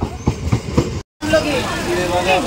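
A train departing a station, rumbling and clattering on the rails with a short break midway, close and fairly loud, with voices nearby.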